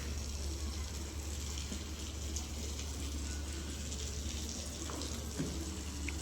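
Steady splashing and running water from a hose as a vehicle is scrubbed and washed outdoors, a continuous even wash of water noise with no talking.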